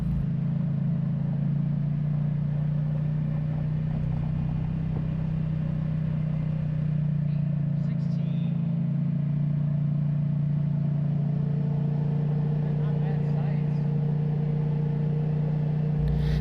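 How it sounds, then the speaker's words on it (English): A quad ATV engine hums steadily and loudly as it rides through a campground at Black Canyon Lake, a constant low drone with only slight shifts in pitch and no talk. "I really enjoyed the little ride through here on the quad."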